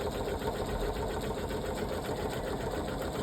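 A Pfaff Creative 3.0 embroidery machine runs steadily at close range, its fast needle mechanism producing a continuous, even whirring rattle with no pauses.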